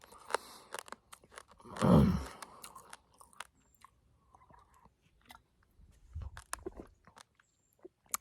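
A hiker on a mountain trail chews a chewy candy snack, Twizzlers, with one loud close bite and munch, then scattered softer chewing sounds and quiet pauses.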